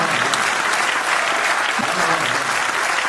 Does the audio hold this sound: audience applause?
yes